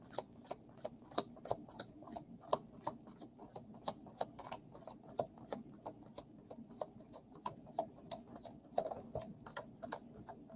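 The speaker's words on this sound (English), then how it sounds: "That was a good shuffle." Quiet, steady rhythm of soft tarot card flicks and slaps repeating in quick succession during shuffling, close by, with no voices.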